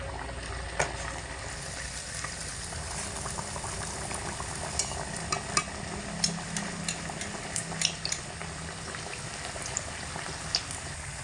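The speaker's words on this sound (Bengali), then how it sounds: "এবার নাস্তাগুলোকে দিয়ে ভেজে নেব, একের সঙ্গে বেশি দেবো না, দুটো করে ভাজবো আমি এখানে" Flour snacks deep-fry two at a time in white oil in a wok, bubbling and crackling steadily up close, with scattered sharp pops throughout and no voices.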